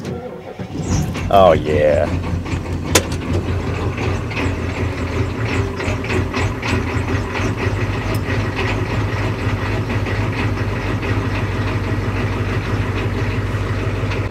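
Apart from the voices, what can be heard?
Ford 6.9 IDI turbo diesel engine cold starting and idling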